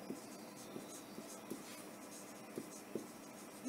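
A pen scratches across paper during a maths lesson, with soft, close strokes and small taps in an uneven rhythm, very faint and quiet throughout.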